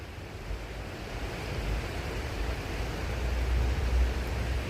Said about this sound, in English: Even though you hear the water in the background.